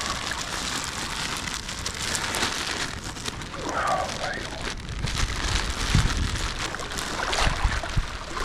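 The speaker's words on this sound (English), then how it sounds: "We have got some rain." Rain patters steadily through wet Mississippi backwoods beside a creek, a dense and even hiss with occasional nearby drips or splashes throughout.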